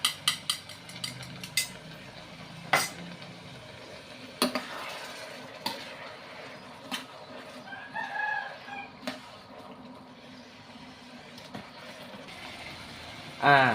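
Papaya is stir-fried with a prepared sauce in a pan, the spatula scraping and clanking against the metal in an irregular rhythm of sharp knocks over a soft sizzle, with a rooster crowing faintly at a distance.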